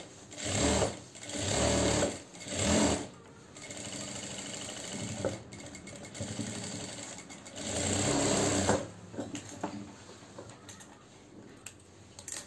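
Sewing machine stitching a seam on a ready-made gown, several loud whirring runs of rapid needle strokes broken by pauses and small clicks, close up.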